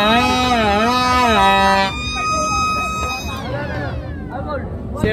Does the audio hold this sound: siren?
yes